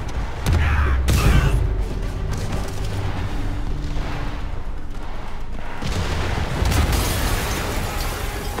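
Explosion in the Spider-Man Remastered video game: a heavy booming blast near the start with a sharp burst, followed by sustained rumbling debris and roar, then a second swell of rumble later.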